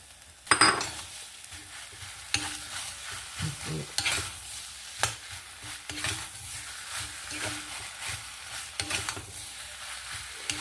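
Boiled sambrani root being stirred and roasted into masala in a pan: scraping spoon strokes over a soft sizzle, with irregular clanks of utensil against metal, close and moderately quiet.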